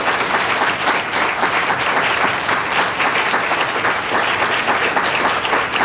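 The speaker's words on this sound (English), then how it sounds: "let's give Naomi a big round of applause." An audience at a School of Education alumni speaker event gives sustained, dense applause, a steady wash of many hands clapping with no gaps.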